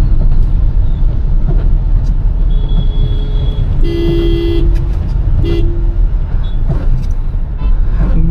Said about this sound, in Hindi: गाड़ी का हॉर्न थोड़ा बेटर हो सकता था।